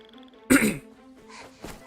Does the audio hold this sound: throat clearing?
yes